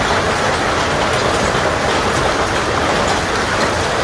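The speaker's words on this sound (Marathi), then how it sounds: "सोसाट्याच्या वारासोबत गारांचा पाऊस सुरू आहे" Dense, steady roar of hail driven by strong wind, a loud continuous wash with no pauses or voices.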